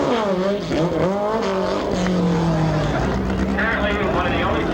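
VW drag racing cars roar loudly down the strip, engines rising in pitch through gear changes, with a commentator talking over the constant close engine noise.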